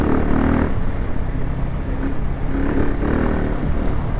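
A KTM 690 Enduro R single-cylinder motorcycle rides steadily on gravel, its engine a continuous close drone with slight rises and dips throughout and no speech.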